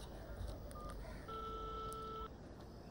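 A phone number is dialed, producing a short series of touch-tone beeps followed by one longer tone, fairly quiet, with no speech.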